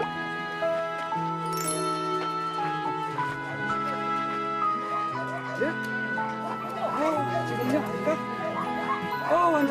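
A dog barks in short bursts and whimpers during a Korean variety show, with people talking and cooing reassurance over it and a faint jingle underneath.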